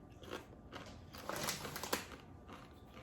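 Tortilla chips eaten with turkey pumpkin chili make close, crisp crunches as they are bitten and chewed. The bursts come in a short run and are fairly quiet, with no voices over them.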